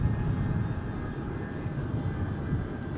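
Steady, distant jet rumble from a Northwest Boeing 757-300 airliner at Minneapolis airport. The low broadband roar stays even for the whole stretch, with no talk over it.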